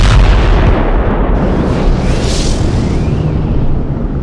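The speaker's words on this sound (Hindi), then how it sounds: "जिसका परिणाम एक बड़ा विस्फोट यानी कि बिग बैंग था" A huge explosion sound effect standing for the Big Bang: a loud, deep boom that rolls into a long, rumbling decay, heard alone without speech.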